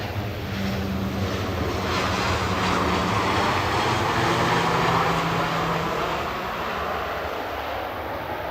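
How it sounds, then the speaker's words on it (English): An EasyJet Airbus A320-200 arrives at Manchester Airport, its broad jet roar loud and steady throughout with a faint low whine running beneath. "This is EasyJet coming in from Lyon. It's GEZ TX A320-200, flight 2120."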